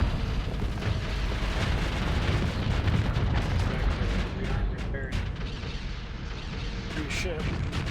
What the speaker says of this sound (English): we kind of sniped these guys with our longer range guns